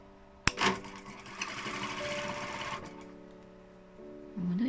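Sewing machine stitching a 1 cm seam allowance on fuzzy fabric, a sharp click followed by a steady mechanical whir that slows near the end, close and fairly quiet.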